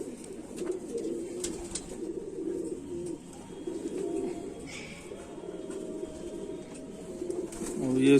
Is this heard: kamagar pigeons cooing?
yes